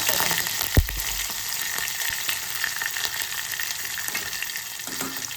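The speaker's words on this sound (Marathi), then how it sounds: "आता कढीपत्ता घालूया." Curry leaves and green chilli hit hot oil with crispy garlic, giving a loud close sizzle and sputter, one sharp clatter near the start, then a steady crackling fry with no speech.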